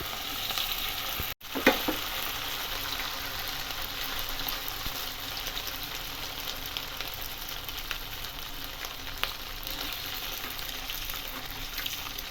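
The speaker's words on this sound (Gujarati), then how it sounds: "હવે તેને તળી દઈશું." Potato triangle snacks coated in cornflour batter deep-fry in hot oil, giving a steady, moderately quiet bubbling sizzle. A sharp clatter early on is probably the pieces going in, followed by soft stirring noises.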